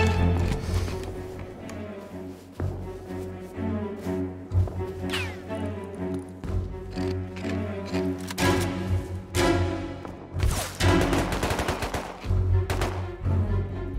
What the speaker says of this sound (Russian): Он на вышке стреляет, да?